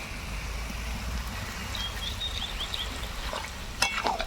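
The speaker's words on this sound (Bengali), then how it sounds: "জল দিয়ে ভালো করে নাড়াচাড়া করে একটু ফুটিয়ে নেব" A pan of fish head and taro stems simmering after water is added, a soft steady sizzle with light stirring and a few utensil clinks toward the end, close by with no talking.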